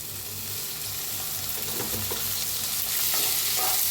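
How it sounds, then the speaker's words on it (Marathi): Tomato and coriander with stems trimmed frying in oil in a pan, a steady close sizzle with soft stirring scrapes, no talking. "तेल ओतलं की नाही आणि लगे भाजतंय"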